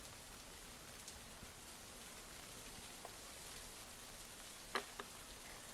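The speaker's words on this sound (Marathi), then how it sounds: "कोयना, नवजा, महाबळेश्वर या परिसरात मुसळधार पाऊस पडत असून" Heavy monsoon rain pours steadily over the Koyna area near Karad in Satara, a dense, even hiss of falling water with a few brief louder drips or spatters near the end, no voices.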